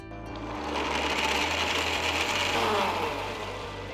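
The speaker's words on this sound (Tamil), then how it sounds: "பால், பிஸ்தா, குங்குமப்பூ எல்லாத்தையும் ஒரு மிக்சர் ஜாருக்கு மாற்றி ஸ்மூத்தான பேஸ்ட்டாக அரைச்சி" A mixer grinder jar blends pistachios, milk and saffron into a smooth paste, giving a loud, steady high-pitched motor whir that swells and holds for a few seconds with no talking.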